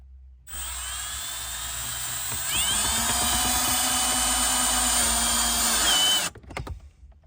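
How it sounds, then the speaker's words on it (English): A power drill whines steadily as it drives a self-tapping screw into a center console mount in a 1996-2002 Toyota, the pitch rising partway through before the motor stops with a few rattles, no talking. "So I'm just gonna hold it up by hand and put the first self-tap and screw in."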